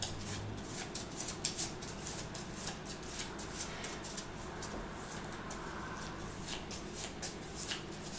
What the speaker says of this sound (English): shuffle it into the deck